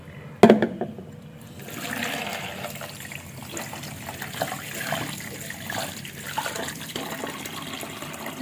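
Running water rinses out a kitchen blender, a steady splashing flow after a sharp clatter at the start, continuing alone without talk.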